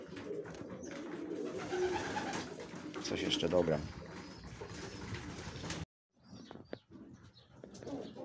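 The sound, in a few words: pigeons cooing in a pigeon loft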